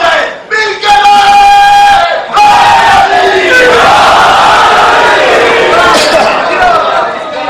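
A large crowd at a religious gathering roars out slogans in unison, loud sustained massed voices rising and swelling almost continuously, with brief dips between bursts and a few sharper shouts poking through.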